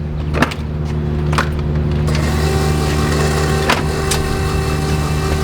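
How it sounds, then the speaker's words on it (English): An electric fuel pump on a Freightliner Coronado Glider truck with a Detroit diesel engine gives a steady mechanical hum with a faint high whine, broken by a few sharp clicks and a shift partway through. "when I turn the key on, this pump kicks on and it's circulating my fuel"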